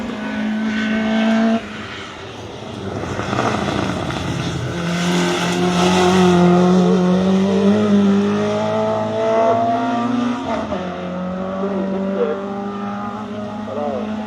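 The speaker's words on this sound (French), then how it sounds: "Voilà, prototype en moteur de moto" A prototype race car powered by a motorcycle engine climbs a hill climb course in Pourville-sur-Mer, its high-pitched engine note rising and falling through gear changes, loud and close, with spectators talking over it.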